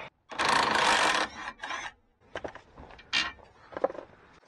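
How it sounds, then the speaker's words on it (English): Ring wrench working loose a rusted bolt on the Watt's link of a 2001–2010 PT Cruiser, heard as a loud burst of metallic scraping and clicking followed by several shorter clinks and rattles, close up with no talking. "Just get on there with a ring wrench."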